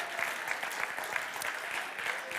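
At a European Mobility Week award ceremony, an audience breaks into sustained applause. The dense, even patter of many hands fills the hall at steady volume without voices.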